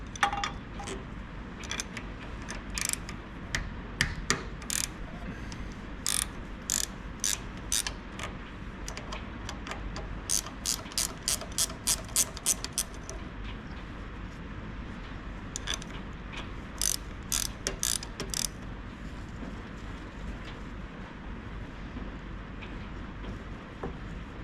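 A hand ratchet with a 12mm socket works on the engine of a worn-out tracked dumper, giving bursts of rapid, crisp clicking in several runs over steady background hum, close by and without talk.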